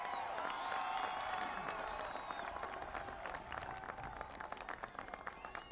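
Crowd applause from a gathering in Hialeah, dense clapping with some cheering that gradually thins out over a few seconds, heard at a distance.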